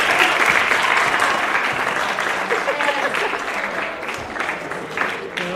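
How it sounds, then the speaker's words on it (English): An audience at a middle school honor society induction ceremony claps for families, a dense, sustained round of applause that gradually softens, with a voice faintly audible underneath. "Please give your families a nice round of applause and wave to them on camera."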